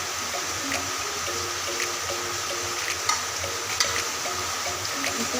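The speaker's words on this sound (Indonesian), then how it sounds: "Jadi ini lagi digoreng ya guys." Unusual bathroom items frying in hot oil that is not yet fully hot, giving a steady, dense sizzle with faint crackles and occasional stirring clinks throughout, fairly close and continuous with no talking.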